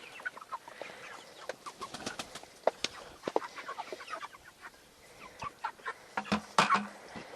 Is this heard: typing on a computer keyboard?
no